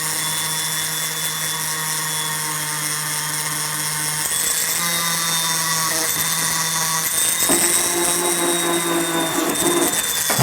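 A hammer face being polished with a power tool, a steady loud whine running continuously with slight shifts in pitch.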